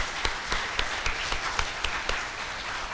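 An audience at an inauguration ceremony for a new association president of the Family Federation for World Peace and Unification claps steadily, a moderate wash of applause with distinct sharper claps standing out at a fairly even rhythm.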